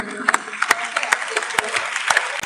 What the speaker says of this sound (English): a big round of applause to every participant who contributed to